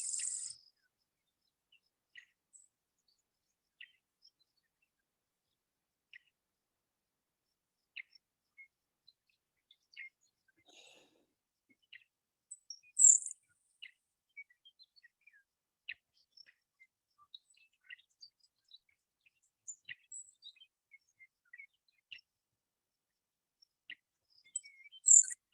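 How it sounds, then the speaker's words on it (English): Grasshopper sparrow song on a prairie conservancy, thin high insect-like buzzy trills repeated sporadically, faint and distant against a quiet background, with a few sharper chirps scattered through. "Similarly, the grasshopper sparrow sounds like an insect."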